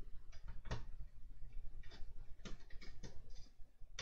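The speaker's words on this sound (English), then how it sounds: "we're just going to remove these two screws here" Small screws being backed out of a Terminator model's pelvis, a series of faint, close mechanical clicks and ratcheting ticks scattered over a quiet background.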